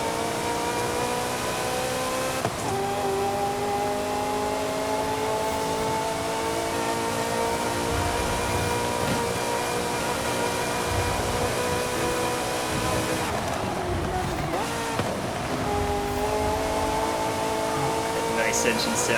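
A 1984 Ferrari 288 GTO in Forza Horizon 5 is heard from outside, its engine a sustained, loud harmonic drone that shifts pitch with gear changes while a voice talks over it.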